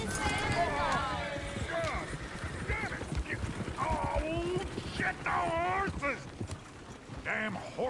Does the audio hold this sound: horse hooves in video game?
yes